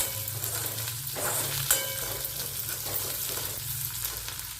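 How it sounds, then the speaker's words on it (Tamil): Curry leaves sauté in hot oil for sundakkai thokku, a Tamil turkey-berry relish, with a continuous crackling sizzle and occasional stirring scrapes in the pan, close and steady with no talking. "அதுக்கப்புறம் கருவேப்பிலையும் போட்டு நல்லா வதக்கிக்கோங்க."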